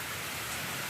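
Steady rain falls on a rural poultry yard as a storm approaches, a dense, even hiss filling the whole second with no voices.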